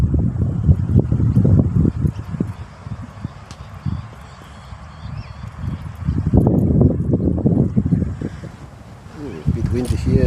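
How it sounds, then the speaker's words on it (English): Strong gusty wind buffets the microphone at an outdoor cricket match in Canberra, Australia, in heavy rumbling bursts, easing briefly before roaring back. "A bit windy here, and it's moving the camera about a bit."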